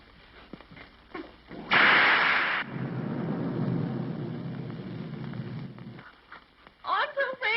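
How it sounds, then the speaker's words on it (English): Thunder in a 1931 film, a loud crack followed by a long, rolling rumble that fades over several seconds, with people speaking before and after it. "Oh, I'm so afraid of thunder and lightning."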